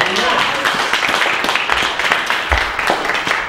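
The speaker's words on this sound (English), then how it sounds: "Give the Lord a hand clap." Church congregation clapping hands together in a dense, sustained burst of applause, loud and close, with cheering voices mixed into the clapping throughout.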